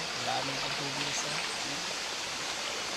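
Water from a waterfall stream rushes in a steady broadband hiss, while a voice talks briefly underneath the flow.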